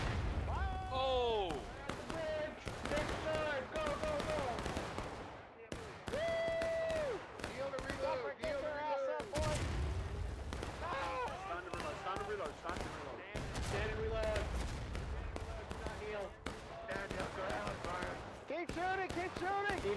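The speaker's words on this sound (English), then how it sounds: "Keep shooting! Keep shooting!" Musket gunfire in the War of Rights game, scattered shots and booming volleys cracking at irregular intervals amid shouting players and loud battlefield chaos.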